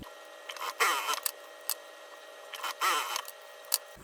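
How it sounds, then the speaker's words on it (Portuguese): A sewing machine stitches lining fabric with a half-centimetre seam allowance, giving short bursts of quick mechanical ticking separated by pauses and small handling clicks, fairly close and quiet. "E vou costurar agora com margem de meio centímetro."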